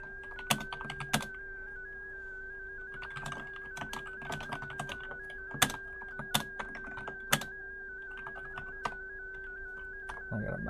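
Several F keys pressed on a computer keyboard, giving sharp, close clicks in small irregular bursts over a steady electronic hum, with someone talking quietly in between.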